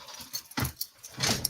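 Metal keys on a motorcycle keyring jangle in a few quick bursts, close and fairly quiet, with short pauses between shakes.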